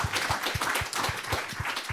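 Audience in a lecture hall applauding warmly after a talk: dense, steady clapping from many hands, with low thumps keeping a loose rhythm and no voices.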